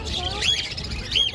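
Caged finches and cockatiels at an outdoor bird market, with a few quick high chirps and squeaky calls close by over a low, murmuring crowd.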